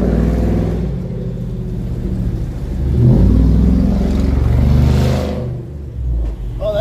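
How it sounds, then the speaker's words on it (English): A truck engine running rough, its loud uneven rumble swelling and revving close by for several seconds before easing off, with no talk over it. "Oh, that truck sounds wrong."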